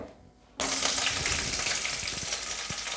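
Quiet at first, then a sudden loud sizzle of ingredients dropped into hot oil for tempering chickpea usal, with crackling and popping continuing close by.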